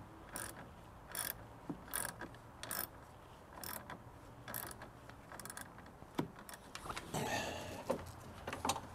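A ratchet socket wrench with a 13 socket clicks in quick bursts of short ratcheting strokes, close and moderately loud, pausing between turns, with a longer run of clicking near the end, on a Chevy Colorado battery terminal.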